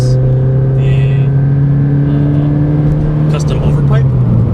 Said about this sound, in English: We are now testing for the Nameless Axleback Exhaust.